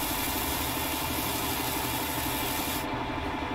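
Tractor engine idling in the farming game Farming Simulator 19, a steady low rumble with a rasping mechanical texture that holds evenly throughout, with no talking over it.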